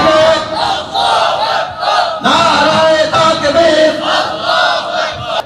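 A large crowd at a religious rally shouts back in unison, loud, close chanted bursts in a repeating rhythm with brief pauses between calls.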